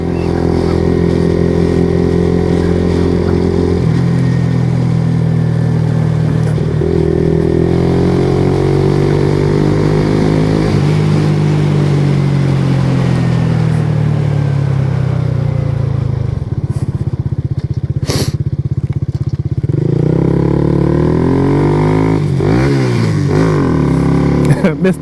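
Kawasaki Z125 Pro motorcycle with an O2 eliminator cruising through a neighborhood at about 30 mph in fourth gear: a steady buzzing engine drone rises and falls with gear shifts, including a missed shift where it bogs, with talk over the ride.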